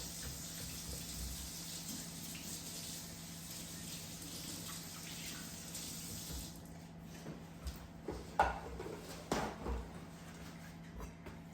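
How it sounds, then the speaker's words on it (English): Tap water runs steadily while hands are rinsed under it at a kitchen sink, a continuous close hiss that thins out near the end into a few splashes and clunks. "Rinse my hands off."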